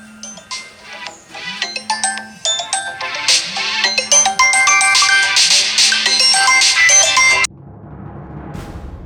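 A phone ringtone for an incoming call plays a loud, bright electronic melody in repeating phrases. It cuts off abruptly near the end, leaving a soft hiss.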